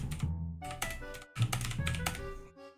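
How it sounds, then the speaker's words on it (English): Keys clatter on a computer keyboard in quick, uneven bursts, close and fairly quiet, with a short pause near the middle and no talk. "I'm just typing right now"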